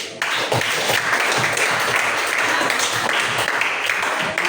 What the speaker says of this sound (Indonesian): Oke, terima kasih, kita beri aplaus.